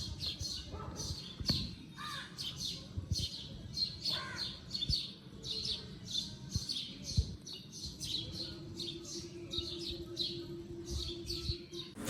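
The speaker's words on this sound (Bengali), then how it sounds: "আর পাখি কি সুন্দর ডাকাডাকি করছে।" Birds chirp and call on a fresh morning after overnight rain. Their repeated bright tweets and a few harsher caws sound moderately far off against quiet background noise.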